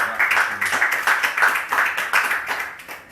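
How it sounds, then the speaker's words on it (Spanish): A church congregation claps for the Lord during a sermon, a moderate burst of rhythmic, somewhat synchronized handclaps pulsing steadily for a few seconds. "dale un aplauso al Señor"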